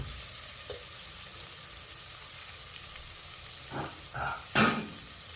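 Onions frying in a pan over a stove, a steady soft sizzle throughout, broken near the end by a few short scraping stirs and a louder clatter.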